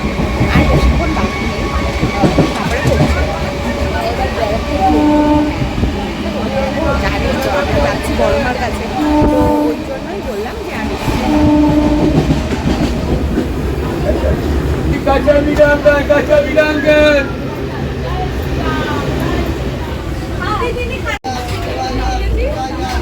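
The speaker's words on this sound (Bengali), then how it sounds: "আমরা এখন বসে আছি ট্রেনেতে আর যাচ্ছি ব্যারাকপুরের দিকে" A suburban passenger train heading toward Barrackpore gives a steady rumble with rhythmic wheel clatter from inside the carriage. People talk over it, and passengers chatter in the background.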